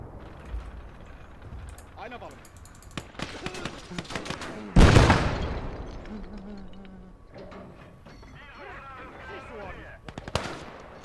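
Bursts of machine gun fire ring out in the war video game Motherland, rattling in short volleys with one heavy blast midway, while voices talk over the battle.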